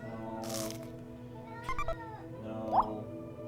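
Cat meowing close by, a few short plaintive meows and a rising cry spread over a few seconds against a steady tonal hum.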